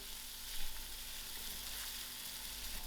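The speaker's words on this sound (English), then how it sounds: "While frying, we have to continue stirring because the banana easily catches to the pot" Steady, close frying sizzle of green bananas in a pot, with faint scraping from stirring, continuous throughout with no talking.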